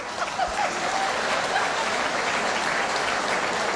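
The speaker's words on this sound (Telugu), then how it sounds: "వీళ్ళు కనపడిన వాళ్ళు గట్టిగా చప్పట్లు కొడదామా?" Steady audience applause from a seminar crowd, a dense wash of many hands clapping at once, sustained and even for several seconds without voices.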